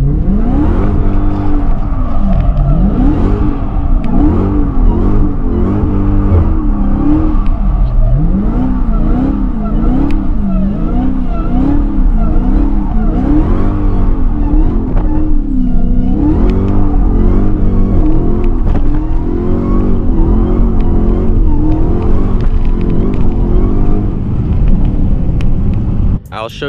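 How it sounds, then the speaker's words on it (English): A car doing donuts in first or second gear, its engine revving loudly and steadily with wavering pitch throughout. Possible tire skid noise blends in, and a voice talks over it. "put it in either first or second gear to start the donuts."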